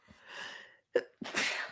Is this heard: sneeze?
yes